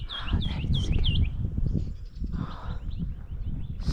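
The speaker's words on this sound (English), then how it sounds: "I can see the bird, it's on top of the mosque." A bird perched on top of a mosque near the castle of Acrocorinth in Greece calls in a run of quick bright chirps, then fainter repeated notes, over outdoor wind and rumble.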